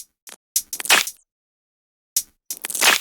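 An unprocessed clap groove drum sample: two short bursts of layered, crisp handclaps with bright, snappy hits in quick succession, separated by silence, loud and isolated.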